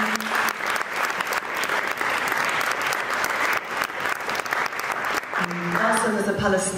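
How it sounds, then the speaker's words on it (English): An audience at a talk on Sudan, Congo and Palestine applauds a speaker with sustained, dense clapping for several seconds. Near the end a voice and a few musical tones rise over it. "Big applause for Qassem."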